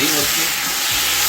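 Onions and tomatoes frying in oil in a pan for chicken shorba soup: a loud, close, continuous sizzle and hiss, with a brief spoken voice over it.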